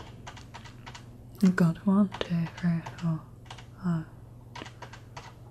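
Brightness button presses on a Corsair K70 RGB mechanical keyboard with Cherry MX switches give a series of sharp, close clicks at an uneven pace, while someone speaks over them.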